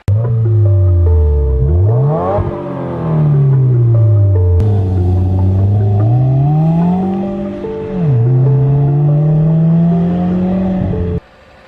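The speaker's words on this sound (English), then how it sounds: "I'm going to play a clip of what the car sounded like before all these upgrades" Subaru WRX engine and exhaust in stock form, before stage 2 upgrades, revving repeatedly from idle: several loud sweeping climbs and falls of pitch, close and alone, ending in an abrupt cut to quiet.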